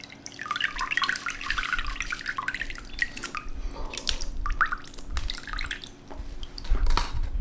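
Water draining through soil in a potted plant, with close, loud trickling and dripping that stays fairly steady and ends in a few heavier splashes.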